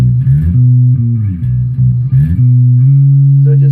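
Electric bass guitar plays a low, sustained line that steps up a whole step from B, with plucked notes sliding and settling onto a held higher note, loud and close with no talking.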